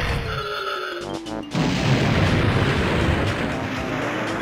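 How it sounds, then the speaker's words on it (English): Explosions in the video game Banjo-Kazooie, a sudden crash midway that swells into a loud, sustained rumbling blast. "EXPLOSIONS!"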